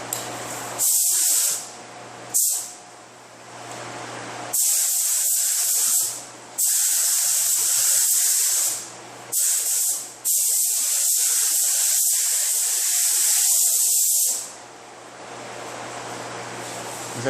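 A spray gun hisses as it lays adhesion promoter over the repaired quarter panel of a 2013 Hyundai Elantra, in several loud close bursts of varying length, the longest lasting a few seconds.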